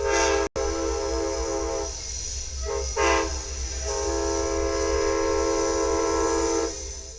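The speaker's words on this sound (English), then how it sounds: "we caught a very rare routing for Amtrak Sunset Limited train" An Amtrak Sunset Limited passenger train passes in Houston, Texas, its multi-tone horn blaring loud and sustained over the rumble of rail cars, with brief breaks in the horn.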